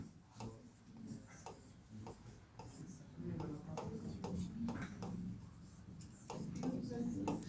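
Chalk or pen scratches across a classroom board during a biology lesson, a run of short, quick strokes and taps close by, with a teacher's voice talking over much of it.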